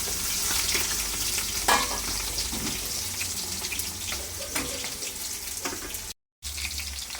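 Onions fry in hot ghee with cinnamon, cloves and cardamom, giving a steady close sizzle with occasional stirring scrapes and clatter, briefly cut to silence near the end.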